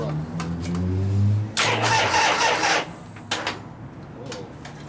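A 1973 Harley-Davidson FX 74ci Shovelhead Super Glide motorcycle engine cranks with a low starter churn, then a loud burst of noise rises for about a second before cutting off, followed by brief faint clatters.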